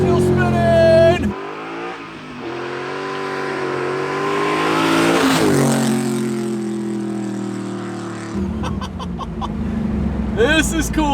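A modified Pontiac Trans Am WS6 accelerates hard at wide open throttle on a country road, its V8 engine roaring and climbing in pitch through gear changes, heard from inside the car with voices talking over it.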